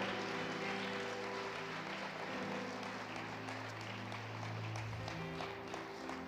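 Steady applause from a church congregation, a dense wash of clapping that holds at an even level throughout, with no talking over it.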